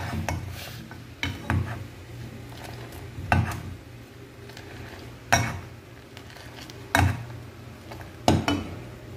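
Ginger tea with cardamom and sugar is stirred in a pot, with a spoon scraping and clinking against the metal roughly once a second over a low steady background.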